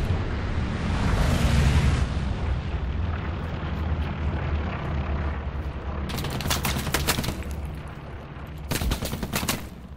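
A Panzer IV tank is blown up in the WWII shooter Hell Let Loose during the battle for Sainte-Marie-du-Mont. A heavy, rumbling blast rolls out and fades, followed by two sharp bursts of crackling gunfire.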